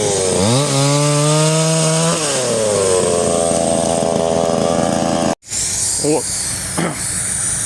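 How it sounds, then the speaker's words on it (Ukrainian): A Dnipro-M gasoline chainsaw cutting old wood into firewood revs up with rising, falling engine whine, then settles into a loud, steady buzzing drone, briefly cut off before resuming close by. "Короче, куч старий зараз на дрова розпиляємо."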